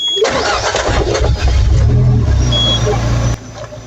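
Peugeot 206 CC S16 petrol engine cranking and catching after a fuel pump replacement, the starter whirring into a loud rough rev that settles toward idle, recorded close by.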